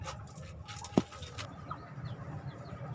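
Several hens foraging for food among cross-bred fighting-cock stock, with soft scattered clucks and one sharp brief squawk near the start, over a low steady background hum.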